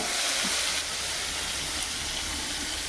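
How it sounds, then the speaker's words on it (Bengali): Eggplant pieces fry in hot oil with black cumin and green chili, giving a steady, loud, dense sizzle that hisses evenly without pause and has no voices over it. "আগে বেগুনগুলো ভালো করে ভেজে তুলে রাখবো।"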